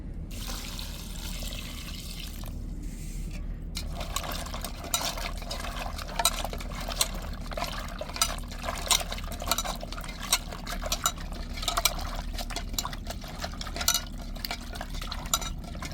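Continuous splashing and trickling water, steady and close, poured over dried fish in a container to soak, with no voices.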